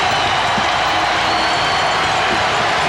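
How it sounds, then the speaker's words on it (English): Arena crowd cheering and roaring loudly and continuously during the 1992 NBA Finals Game 5, Chicago Bulls at Portland, after a three-pointer, with a steady dense wash of crowd noise throughout. "That gets the crowd going."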